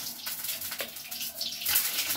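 Leaves being washed under running water in a kitchen, a continuous close splash and trickle with a brief louder gush near the end.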